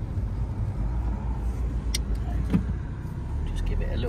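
A 2011 Mini Cooper D convertible drives along a road with its roof down, its low steady engine and road rumble running throughout, with a brief click and soft knock midway.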